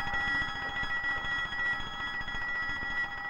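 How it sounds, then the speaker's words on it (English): An office alarm rings steadily and continuously, a loud sustained electronic tone with rapid pulsing, with no talking over it. "That's the alarm in Tillinger's office."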